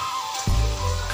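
Washed chicken pieces dropped into frying biryani masala in a pan, bursting into a loud, sudden sizzle halfway through after quiet low crackling, then holding a steady hiss.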